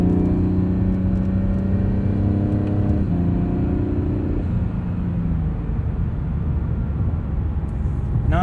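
A 2020 Acura NSX's hybrid turbocharged engine with a nine-speed transmission accelerates, heard from inside the car. It is a loud, continuous droning whir that climbs in pitch, drops at shifts around the third and fifth seconds, then pulls on.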